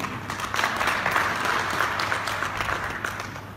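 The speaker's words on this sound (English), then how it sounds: "I think it deserves an applause." Audience applause at a senator's public address in Jigawa State, a steady wash of many hands clapping at moderate distance, sustained evenly throughout with no voices over it.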